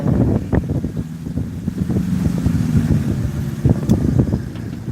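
Steady wind buffeting the microphone, a low rumbling roar with gusty swells throughout, along with scattered knocks and clatter.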